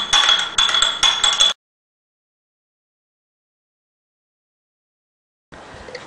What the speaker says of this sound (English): in a smaller cup, I'm just going to mix our cornstarch with just a little bit of water just until it dissolves